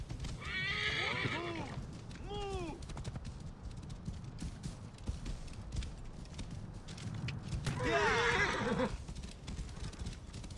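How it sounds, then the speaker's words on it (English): Horses whinny loudly twice, early and again near the end, over a bed of clip-clopping hooves and background bustle in the desert world of the video game Assassin's Creed Origins; a voice speaks briefly. "I guess they're off. They're all getting on horses."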